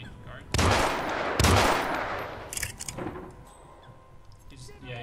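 Gunfire in the Hitman Beta game, with two loud bursts of shots close by, then scattered quieter cracks and a fading tail, while someone talks.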